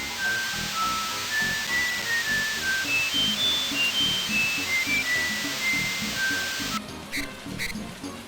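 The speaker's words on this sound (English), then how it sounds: "So he whistles in the shower" A character in Super Mario RPG whistles a bright, meandering tune while taking a shower, steady water hiss running beneath the melody until the whistling stops and the spray sputters near the end.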